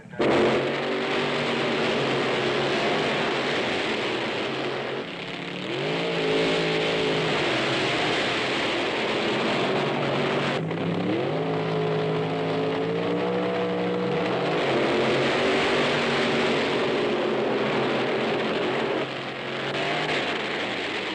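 Drag racing car from 1965 firing up and accelerating hard, a loud engine roar with rising revs that climbs, drops briefly and climbs again across about twenty seconds, close and continuous with no talk.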